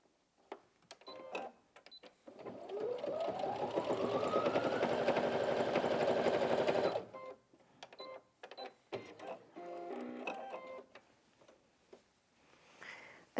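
A Brother Inventio NV1850Q sewing machine stitches through four layers of fabric in one sustained, rising motor whir lasting about four seconds, framed by handling clicks and ticks before and after, close and clear.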